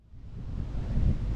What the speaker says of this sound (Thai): ได้ยินเสียงลมเปล่าครับท่านผู้ชมลมมันพัดสวาดสวย